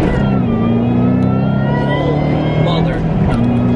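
A 2007 Shelby GT500 accelerates hard, its engine roar steady and loud with a rising supercharger whine layered on top, while people talk over it from inside the car.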